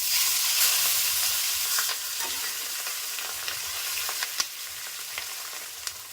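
Dhela fish frying in hot oil in a pan: a steady, close, bright sizzle with occasional sharp clicks and scrapes from turning the pieces, with no talking.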